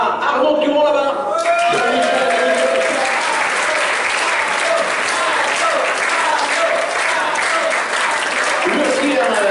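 Sustained, loud audience applause and ovation at a 2017 cycling awards evening, the clapping dense and continuous while a host speaks over the start.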